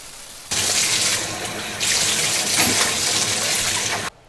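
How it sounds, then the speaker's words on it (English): Water running and splashing over a screen printing screen as emulsion is rinsed off, a steady broadband gush that starts abruptly, swells midway and cuts off near the end, with no talking. "even just with me sort of putting a little bit of water on it here, it's cleaning right out"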